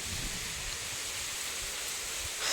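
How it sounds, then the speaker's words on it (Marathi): A soft, steady hiss of wind blowing outdoors across a muddy rain-soaked field of bajra, even and unbroken, with no talking. "फक्त वाऱ्याचा आवाज येतोय"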